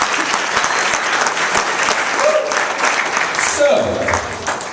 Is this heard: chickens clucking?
no